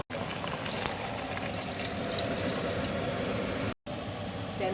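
Water pouring steadily into a cooking pot for Indonesian black beef soup (rawon), a continuous close splashing fill with a brief cut near the end.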